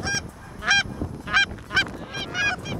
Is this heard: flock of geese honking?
yes